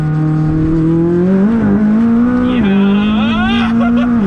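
A DME-tuned McLaren 600LT accelerates hard in a pull, its loud engine rising in pitch through the gears with short dips at each shift, close and dominant.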